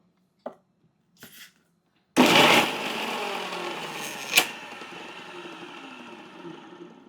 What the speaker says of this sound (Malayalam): ഒന്ന് ചെറിയ തരിയായിട്ട് നമ്മൾ അരച്ചെടുക്കണം